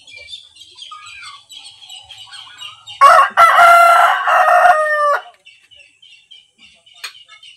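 A rooster crows once, loud and close, a drawn-out harmonic call lasting about two seconds amid faint background bird chirps, with no talking.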